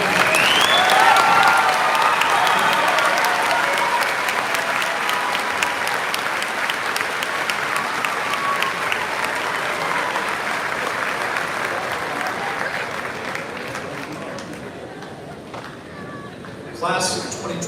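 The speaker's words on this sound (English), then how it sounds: "Please join me in applauding the graduates of the" Sustained applause from a large audience honoring graduates at a 2022 Midland University undergraduate ceremony, steady and dense throughout, tapering slightly near the end with no voices.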